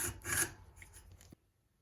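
A small notch is cut out of a handmade pottery tool, a brief close rasping scrape that tapers off and stops abruptly, followed by near silence.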